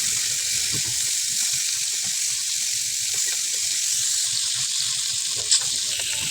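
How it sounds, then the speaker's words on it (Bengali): Hilsa fish pieces fry in hot oil in a pan, giving a steady, even, hissing sizzle that stays close and unbroken, with one faint clink near the end. "ভেজে নিচ্ছি মাছটা"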